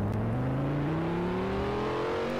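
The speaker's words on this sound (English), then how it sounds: "I was just revving it." A car engine revs up with a steadily rising whine, loud and close, a smooth climbing tone held for a couple of seconds with no talking.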